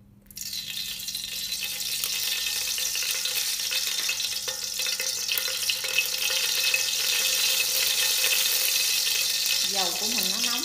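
About a tablespoon of cooking oil heating in a pot on the stove for a vegetarian Vietnamese dish, a steady close sizzling hiss that builds and holds, with a brief faint vocal sound near the end.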